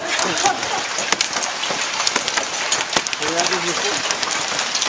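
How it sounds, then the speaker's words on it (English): Giant hail pelts a football field and a metal shed, making a dense, loud rattle of sharp hits. A voice speaks briefly over the clatter. "Giant hail pelting the football field where we're staying, and the shed where we're hanging out."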